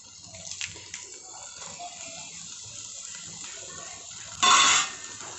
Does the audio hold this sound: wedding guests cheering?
no